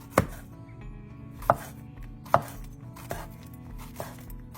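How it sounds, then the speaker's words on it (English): A knife slices sausage into diagonal pieces on a cutting board, giving five sharp, distinct chops spaced about a second apart, close and clear with no talking. "So just slice it in little diagonals, however you want to serve it."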